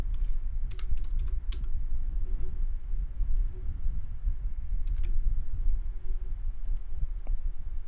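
Typing on a computer keyboard while setting up Android Studio, with bursts of crisp close key clicks over a steady low background hum.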